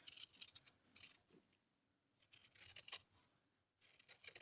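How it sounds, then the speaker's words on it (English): Scissors trim excess wool from the edge of a punch needle piece in quiet, close snips, arriving in short bursts separated by brief silences. "this excess wool that I'm trimming off"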